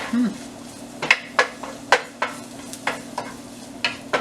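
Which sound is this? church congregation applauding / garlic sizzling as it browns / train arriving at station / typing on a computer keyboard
garlic sizzling as it browns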